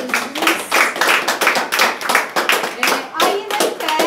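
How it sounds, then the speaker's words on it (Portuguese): A church congregation claps together in a fast, steady rhythm, loud and close, with voices mixed in among the claps. "Uma salva de palmas."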